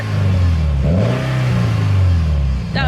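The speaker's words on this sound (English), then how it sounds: "Little rev." A Toyota Avensis SR with a deep custom exhaust is revved briefly, its bassy engine drone rising and falling once, loud and close, with a short burst of noise at the end.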